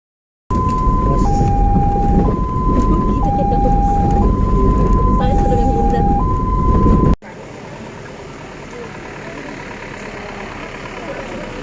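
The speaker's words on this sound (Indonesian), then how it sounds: "kita jalan-jalan sama ambulans." An ambulance siren wails loud and steady in alternating high-low tones over engine rumble while driving through Matoangin Mangkoso, Indonesia, then cuts off abruptly, leaving road and engine noise.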